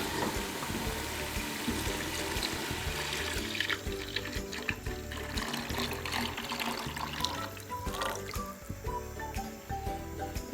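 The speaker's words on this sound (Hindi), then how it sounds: "अब हमने लस्सी जिसमें मिक्सिंग शामिल करके रखा हुआ था वो इसमें डालते हैं।" A lassi mixture pours into a pan of fried spices while kadhi is being cooked, making a steady, close liquid splash and sizzle that runs throughout.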